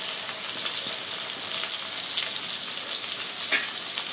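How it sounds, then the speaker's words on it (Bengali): About a cup of onion fries in cooking oil, producing a steady close sizzle with light crackles and a few faint stirring clicks. "পেঁয়াজ দিয়ে দেব 1 কাপের মতো।"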